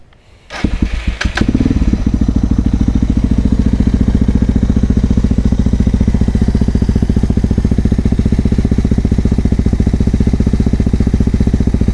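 Dual sport motorcycle with a DG RST exhaust, plain muffler and no quiet core, cranking and firing up, then settling into a loud, close, rapid thumping idle that stays steady for the rest of the time.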